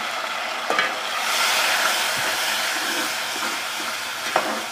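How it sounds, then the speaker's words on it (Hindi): Garlic ginger paste frying with golden onions in hot ghee, a steady, close sizzle that swells and eases, with a couple of brief spoon clicks while stirring. "एक से दो मिनट इसको भी हम भून लेंगे।"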